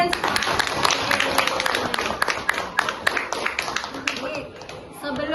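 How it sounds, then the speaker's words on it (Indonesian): Scattered, light hand clapping from a classroom group applauding students after their presentations during a teacher performance exam, with a voice speaking over the claps. "Tepuk tangan untuk kalian."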